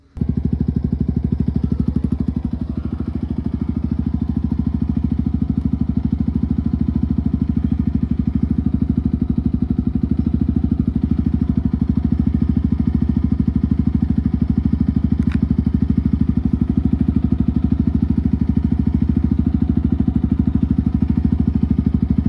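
A restored motorcycle engine runs steadily throughout as the bike is ridden, a loud continuous low drone close by with little variation in tone and no talk over it.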